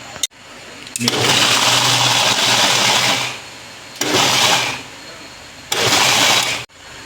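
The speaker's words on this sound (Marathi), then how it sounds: "आणि आता मिक्सर लावून याची पेस्ट करायची आहे." A mixer grinder whirs loudly in three bursts, a long run followed by two shorter pulses, each starting and stopping abruptly.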